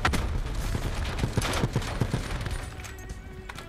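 Rapid bursts of gunfire from a Black Ops 4 match, sharp repeated shots in quick clusters over a steady background of game noise, with no voices.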